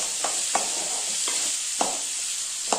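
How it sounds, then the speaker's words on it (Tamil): Garlic and tamarind for guava chutney sauté in a pan with a soft, even sizzle. Light scraping stir strokes come every half second or so, close by, and nobody talks. "எல்லாம் ஒன்றாவே போட்டு வதக்கலாம்."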